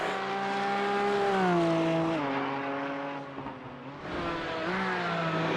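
A Porsche Cayman GT4 in a sim racing game at Road America holds a steady high engine whine through a fast fourth-gear corner, easing briefly and then pulling again, loud and continuous with no talking.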